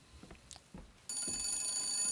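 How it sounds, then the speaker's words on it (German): In Bioshock Infinite a telephone starts ringing with a bright, buzzy bell tone after a few quiet soft clicks, the ring close and steady through the remaining moments. "Oh, Telefon. Gehst du mal ran?"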